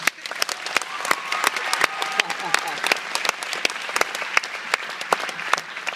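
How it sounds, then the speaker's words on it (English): A room of audience members claps steadily for several seconds, dense and continuous with sharp individual claps standing out, fairly close and uninterrupted. "So give her a round of applause."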